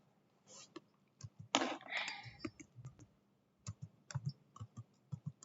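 Fingers typing code on a computer keyboard, close and fairly quiet, with bursts of rapid key clicks separated by short pauses and one brief louder rustle.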